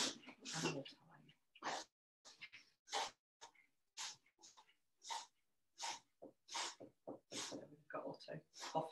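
A dog coughs and snorts in short, raspy bursts, faint and close, with brief gaps between fits.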